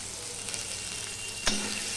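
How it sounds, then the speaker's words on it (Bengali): Potatoes fry in a pan with a soft, steady sizzle and a single brief clatter of stirring near the end, fairly quiet and with no talking. "এবার আলুটাকে আমি ভালো করে ভেজে নেব।"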